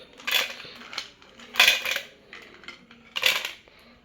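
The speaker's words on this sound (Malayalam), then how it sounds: "ഇനി നമുക്ക് കുറച്ച് ഐസ് ക്യൂബ്സ് ഇട്ട് കൊടുക്കാം" Ice cubes are dropped into a mixer jar while making a raw mango juice: three separate bright clattering bursts, each a quick cluster of hard clinks against the jar, with short quiet pauses between them.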